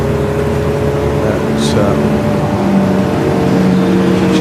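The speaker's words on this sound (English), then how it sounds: "here comes the Davanti team's VW Sirocco, which is 15B" A Davanti team VW Scirocco race car at Silverstone passes with a sustained engine drone that holds steady and loud, while a commentator talks over it.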